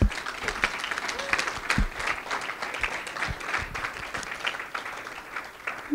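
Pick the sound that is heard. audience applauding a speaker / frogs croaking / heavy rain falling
audience applauding a speaker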